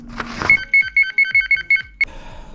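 A CarpSounder ROC XRS carp fishing bite alarm sounds at maximum volume, giving a rapid run of about eight loud, close electronic beeps in an even rhythm after a short rustle of handling.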